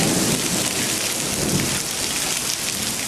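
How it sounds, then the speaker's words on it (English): Heavy tropical rain pours down in the Bahamas, a dense, loud and unbroken roar of water hitting surfaces that sounds close by, with no voices. "Look at all that rain."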